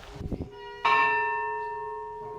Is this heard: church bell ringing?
yes